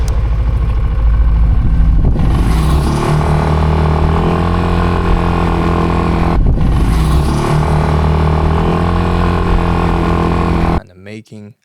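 A Yamaha NMAX 155 scooter (2025 version) engine revs loudly and steadily, its tone shifting as the VVA engages at higher revs, with two brief dips in pitch and then a sudden cut near the end.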